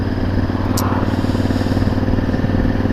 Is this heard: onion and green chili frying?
no